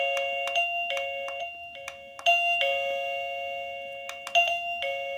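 KooPower wireless doorbell chiming repeatedly, a series of clear ding-dong melodies whose loudness shifts from press to press, with bright tonal notes over a quiet background and no talking.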